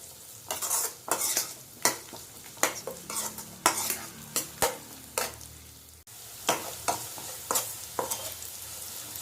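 Onion, ginger and garlic sautéing in a pan for Tamil-style fish curry, with repeated scraping stir strokes in a steady rhythm over a soft sizzle, close and moderately loud, pausing briefly midway.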